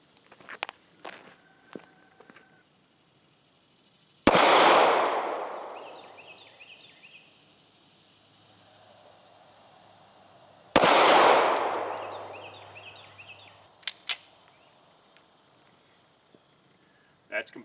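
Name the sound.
ATI 1911 9mm pistol gunshots at a shooting range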